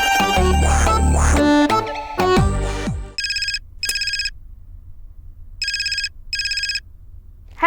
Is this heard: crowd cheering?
no